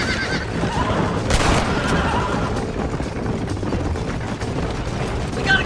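A horse whinnies loudly in a Red Dead Western video game, with galloping hooves clip-clopping steadily throughout and a burst of sharper noise partway through.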